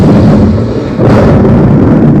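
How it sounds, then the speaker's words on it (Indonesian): A loud, deep roar of film-soundtrack thunder, played through a Devialet Phantom II portable speaker, rumbles continuously, with a heavy crack-like swell partway through, booming and close. "Petir."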